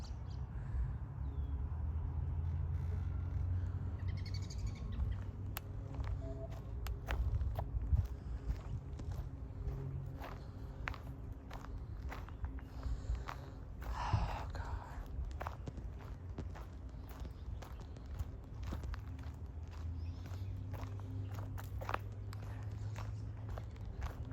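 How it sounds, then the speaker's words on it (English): Footsteps crunch through twigs and branches outdoors, a steady series of crackling snaps over low background rumble, fairly close. "Like someone stepping on branches."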